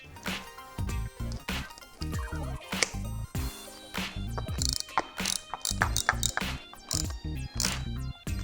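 Screws with washers are driven into brackets on Memphis Shades hand guards fitted to a 2018 Harley-Davidson Sport Glide, giving close clicking, ratcheting bursts in an irregular stop-start pattern, with no talk.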